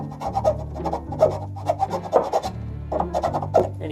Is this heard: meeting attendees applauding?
no